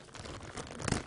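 Plastic bag being torn open with teeth in a kitchen while cooking gumbo, a short burst of crinkling and ripping plastic that peaks sharply near the end, close and fairly loud.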